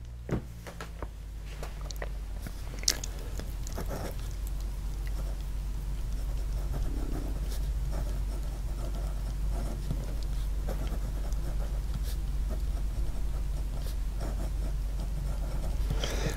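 Quiet, steady scratching of a vintage 1980s Chinese fountain pen nib gliding across paper, soft continuous strokes with small ticks, no voices.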